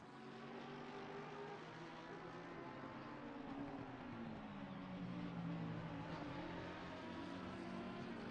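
Racing-game cars, a Porsche 911 and a McLaren, drone past on the Indianapolis track in a battle for position, their engine tones steady and continuous, gliding slightly in pitch with no voices over them.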